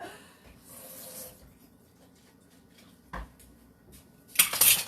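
Apple cake batter is stirred in a bowl, with soft scraping and sloshing, a couple of sharp clinks of utensil against the bowl, and a louder clattering burst at the end.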